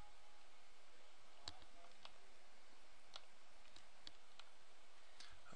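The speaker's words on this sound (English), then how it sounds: "we just need to click the plus and enter an installation code" Computer mouse clicks and keyboard typing while entering an installation code, a sparse series of light sharp clicks at uneven intervals over a quiet room hum.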